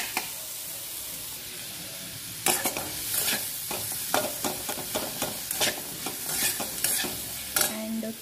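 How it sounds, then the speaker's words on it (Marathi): Ground green chutney, garlic and ginger sauté in a pan, a loud hissing sizzle that flares up partway through, overlaid by a run of quick scraping and clattering stirs. "आता हे थोडंसं परतून घ्यायचं।"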